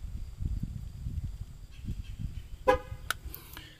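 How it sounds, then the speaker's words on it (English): Quick horn honks from a 2021 Chevy Silverado 2500 HD confirm a TPMS sensor reset: a sharp honk, then a second brief toot, rising over low rumbling outdoor background noise. "And she honked again, and then double honked."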